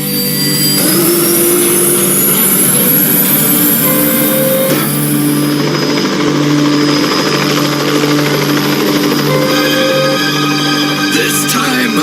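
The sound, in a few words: cartoon helicopter flying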